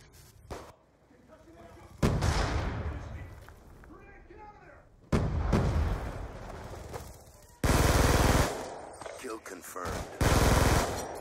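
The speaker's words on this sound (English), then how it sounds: "God damn, this gun shoots quick." Rapid automatic gunfire from a weapon in Black Ops 2 comes in several loud, fast bursts, separated by quieter stretches of game noise.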